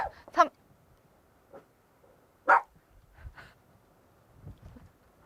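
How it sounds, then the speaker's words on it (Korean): A pet dog barks indoors during a home-recorded lesson, giving a loud sharp bark near the start and another around the middle, with softer yips and whimpers between and a brief low rumble near the end. "혜리야, 너 짖으면 어떡해. 지금 오늘 촬영하고 있잖아."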